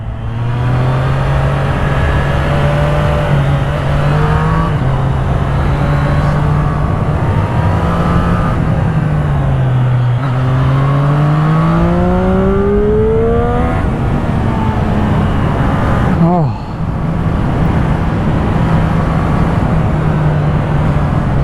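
A motorcycle pulls hard in second gear, its engine note rising and falling through long revving sweeps, loud and close under steady wind rush, with one abrupt dip partway through.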